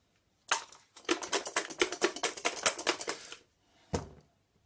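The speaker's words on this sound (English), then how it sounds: "Means I roll 3 dice." Three dice rattle and tumble across a table during a tabletop dungeon game, a dense burst of rapid plastic clatters lasting about three seconds, then a single sharp click as one settles, close and clear.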